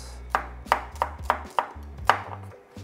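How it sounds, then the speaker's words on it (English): Shallots and salt pounded in a mortar, six or seven firm, evenly spaced thuds with no talk over them. "We pound as we prep."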